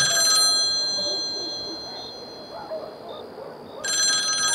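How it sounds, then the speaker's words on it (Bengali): A telephone rings loudly in a burst at the start and again at the end, with a steady fainter electronic tone held in between. "লোডশেডিং হওয়া মাত্রই ফোন বেজে উঠল"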